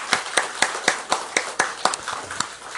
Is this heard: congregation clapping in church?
yes